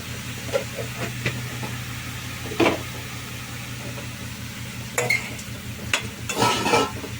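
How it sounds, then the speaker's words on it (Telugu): Steady stirring in a pan of drumstick and egg curry with salt and turmeric, giving a soft continuous frying hiss with a few scraping knocks of the spoon against the pan, close and without speech. "కలిసేదాకా తిప్పుకోవాలి."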